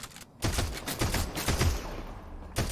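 Gunfire in the video game Fortnite, a rapid burst of shots rattling off in quick succession, fairly loud and close, with no talking.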